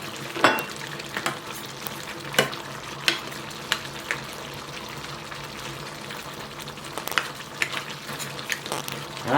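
Macaroni, okra and onion frying together in a pan, a steady sizzle with stirring scrapes and occasional sharp clatters of a utensil against the pan, close and moderately loud.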